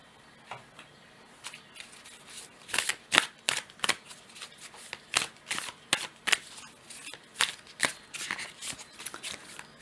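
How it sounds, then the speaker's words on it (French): Oracle cards from a Sacred Destiny deck are shuffled by hand, a run of crisp riffling and slapping bursts in an irregular rhythm, close and clear with a quiet background. "je vais tirer encore une carte de l'oracle"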